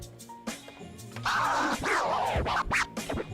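Turntable scratches in Serato DJ Lite whip back and forth in quick, sharp sweeps, with a low steady beat faintly underneath.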